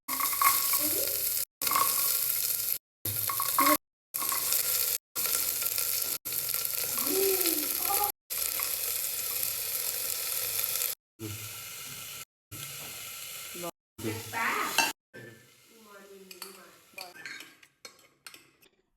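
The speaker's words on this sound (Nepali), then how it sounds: "थोरै घिउलाई चाहिँ हिट गरेर त्यसमा चाहिँ जिरा, मेथी, ज्वानो फुराइदिए र 1 बाइ 1 सब्जीहरू भुटे।" Vegetables being sautéed in ghee with cumin, fenugreek and carom seeds inside a pressure cooker, making baby food: close sizzling and frying with spoon scrapes and stirring against the pot, broken by short gaps and fading into softer clatter at the end.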